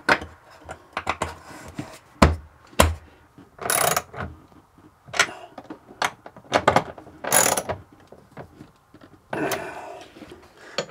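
A hand ratchet clicks in quick bursts, tightening the battery terminal connections aboard a sailboat, with scattered sharp knocks and clatters of tools between the runs of ratcheting.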